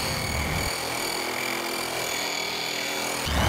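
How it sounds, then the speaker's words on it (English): Porter-Cable Restorer with a coarse abrasive drum grinding paint off an old metal cart down to bare metal, producing a loud, continuous, harsh rasping roar up close. "Using the coarse abrasive drum again, it did a pretty good job of cutting through the paint and taking the surface down to bare metal."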